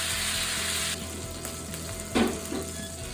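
Chicken pieces frying in a single pot make a loud, steady hiss and crackle throughout, with one dull knock of the pot near the end. No one speaks.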